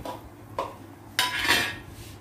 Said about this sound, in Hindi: अब ये शिमला मिर्च हम इसमें डाल के एक मिनट तक इसको चला लेंगे अच्छे से।